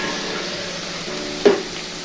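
Onions frying gently in a pan over low heat for a spiced potato and yogurt curry, a steady soft sizzle throughout with one brief louder stir or scrape near the end, no voices.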